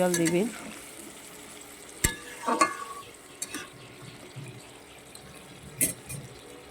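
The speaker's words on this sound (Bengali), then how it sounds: "এখানে আমি গরম জল অ্যাড করেছি" Hot water poured onto sautéed spices for Kashmiri potato curry sets off a sharp hiss, then scattered sizzling and utensil scrapes settle into a quieter simmer, with a faint voice early on.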